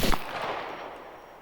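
A single sharp gunshot in the survival video game SCUM bursts out at the very start, then its echo rings and fades away over the following second.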